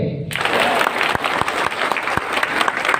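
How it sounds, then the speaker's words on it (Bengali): An audience in a convention hall in Gazipur applauds at a program, a dense burst of clapping from many hands at close range with a faint crowd murmur underneath. "ফার্স্ট সেশনে থাকবেন জাহিদ স্যার, হাততালি হবে।"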